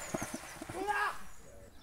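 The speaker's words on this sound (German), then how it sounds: "Da steht ein Pferd auf dem Flur." Hooves of a horse standing in a hallway along a pilgrims' trail clop a few times, soft and fairly close, with a voice talking over them.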